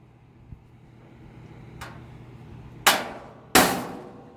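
A hammer strikes a nail in a quiet room to dent a drum bracket mark: one light tap, then two sharper, louder metallic hits a moment apart.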